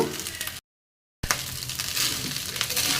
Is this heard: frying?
yes